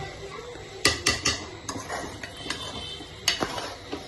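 A spoon scrapes and knocks against a metal pot while chicken khichdi is stirred, a run of close clanks and scrapes over a low sizzle.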